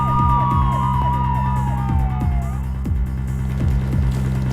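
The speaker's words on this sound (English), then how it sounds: "Mr. Wright, there are police cars outside. And not just one or two, but a whole bunch." Several police car sirens wail together outside a building in the Phoenix Wright: Ace Attorney - Spirit of Justice video game, sweeping pitches overlapping continuously over a steady repeating game music bed, loud and with no talk.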